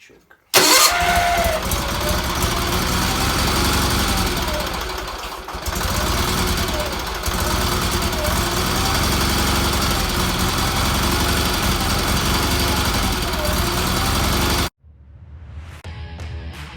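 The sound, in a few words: motor engine running after choke start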